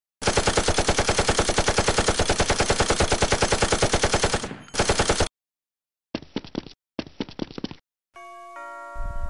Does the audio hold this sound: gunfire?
yes